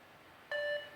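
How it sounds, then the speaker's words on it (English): A single electronic workout timer beep cuts in sharply and rings steadily for about a third of a second during a military-style circuit session, clear and close over a quiet background. "Let's get in between the beeps."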